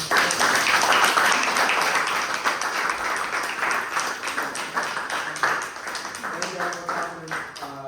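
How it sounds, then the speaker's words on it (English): Applause from an audience at a fashion-week panel discussion in a fine art gallery, a dense wash of clapping that stays steady then gradually thins out, with some voices mixed in toward the end. "we can do a round of applause for all."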